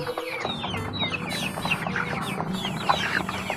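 Chickens cluck steadily in a farm flock kept without vaccines, with overlapping calls and squawks from several birds close by, no talking.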